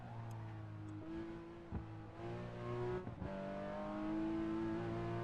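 A car engine pulls up through the revs after a gear change, its tone climbing steadily, with a brief dip and a couple of knocks during the shift.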